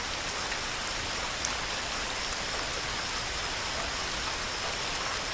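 Steady rain falls on a surface at night, a dense, even hiss of drops that continues without pause, moderately loud and alone with no voices.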